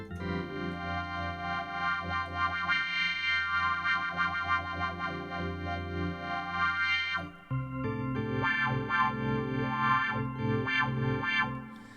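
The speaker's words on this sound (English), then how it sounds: "Farfisa type sounds." Farfisa-style combo organ tones from the Arturia V Collection 5 software emulation, a bright, reedy sustained chord pattern playing continuously, with a brief gap near the middle before a new, brighter chordal phrase resumes at the same steady level.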